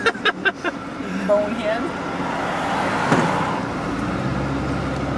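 Car engine hum and steady road noise inside a moving car heading out on a group bowling excursion, a continuous low drone under several people talking close by.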